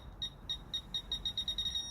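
A Fisher F-Pulse pinpointer metal detector in an air test gives a series of high-pitched electronic beeps that start evenly spaced and speed up toward the end, clear over a low background hum.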